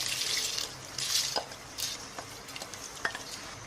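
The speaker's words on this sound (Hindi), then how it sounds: "अब हम इसके अंदर ये चावल ऐड कर रहे हैं।" Rice being tipped and stirred into a pot of boiling water for biryani gives a soft rushing splash, followed by faint bubbling and a few light clinks, close up and quiet with no talk.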